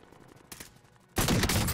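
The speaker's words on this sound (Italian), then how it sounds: "ci sono gli spari" Rapid automatic gunfire from the Warzone video game erupts in a dense, loud burst after a quieter stretch with a few scattered distant shots.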